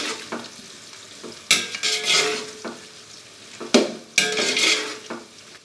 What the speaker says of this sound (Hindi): प्याज को हम अच्छे से फ्राई करेंगे तकरीबन गोल्डन ब्राउन होने तक